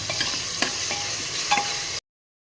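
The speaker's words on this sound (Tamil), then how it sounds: "தக்காளி, இஞ்சி பேஸ்ட்டு, மல்லி இலை வதக்கிடுவேன்." Tomato, ginger paste and coriander leaves sautéing in oil for mutton salna, an even close sizzle with light stirring taps and a faint metallic scrape, lasting two seconds before cutting to silence.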